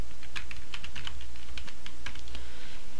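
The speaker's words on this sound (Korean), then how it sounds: "F4 두 번 눌러서 자, 부장을 써주시면 되죠." Fingers type steadily on a computer keyboard while working in a spreadsheet, a quick run of close, crisp key clicks over a constant low hum, with no talking.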